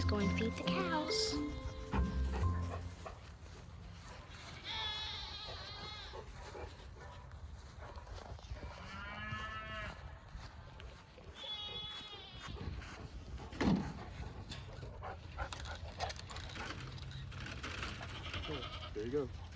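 Goats bleat repeatedly in a farmyard with a playground, several clear, wavering calls rising over steady background noise, while people talk nearby.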